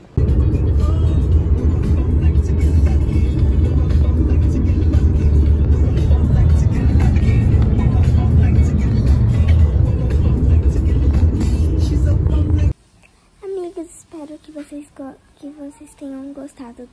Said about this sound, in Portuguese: Vai entrar no carro.